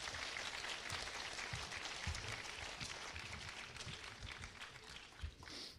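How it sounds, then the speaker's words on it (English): Audience applause at a Paragould High School awards ceremony for 9th to 11th graders: steady, sustained clapping from a large crowd, heard from some distance at a fairly soft level throughout. "I do want to give them a big round of applause."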